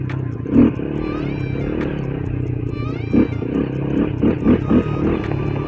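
A 250cc scrambler motorcycle rumbles with a loud, raw exhaust, and several quick throttle blips punch through the steady idle.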